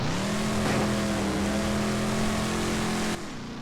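A car limps around a track on two flat tires in BeamNG, its engine droning at a steady, loud pitch that holds evenly, then drops off abruptly near the end.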